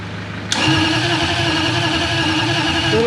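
Toyota 1UZ V8 engine in a VW Kombi cranking and catching after a sudden start, settling into a loud, steady, close idle with an even rumble.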